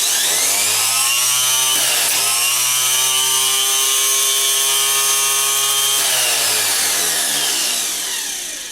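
A rebuilt 10MT starter motor spins freely on a workbench with a steady, smooth electric whine and a strong harmonic hum. Its pitch dips briefly around two seconds, shifts again near six seconds and winds down at the end.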